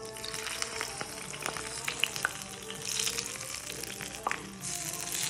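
Hot olive oil poured over kashk and homemade yogurt in a small bowl gives a soft crackling sizzle with a few sharp pops, fairly close and steady, with no talking.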